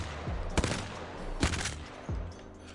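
A Hemlok rifle fires short bursts against a rock in Apex Legends, with a few distinct sharp shots standing out over steady background game noise and no talking.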